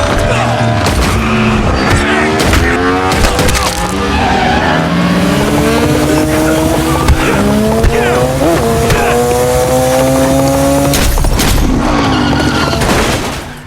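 A John Wick film car chase roars with engines, long sliding tire squeals and bursts of rapid gunfire with booming impacts, loud and dense throughout.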